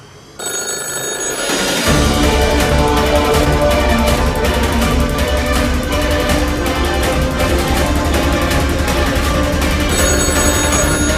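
A telephone rings loudly and continuously in an office setting, its repeating electronic bell steady for about ten seconds after a brief quieter opening, with no talking over it.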